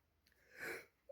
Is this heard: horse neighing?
no